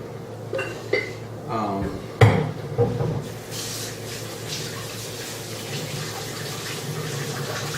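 Running kitchen tap water rinses an item in a sink while making rye sourdough bread, a steady close gush that follows a few clunks and knocks at the start, with no talking.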